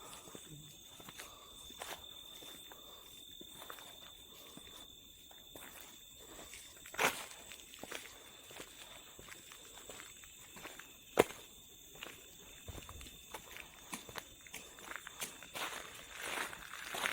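Careful footsteps on a jungle path at night in Jim Corbett tiger territory, scattered crunching steps with occasional sharper snaps of twigs or leaves over a faint steady insect drone, soft and fairly close.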